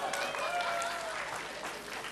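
A church congregation claps during a Pentecost Sunday service, a dense, steady patter of many hands lasting throughout, with faint voices mixed in.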